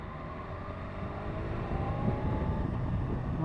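A 2017 BMW S1000RR sport motorcycle engine drones at low revs, smooth and even, with wind rumbling over the microphone and no voices.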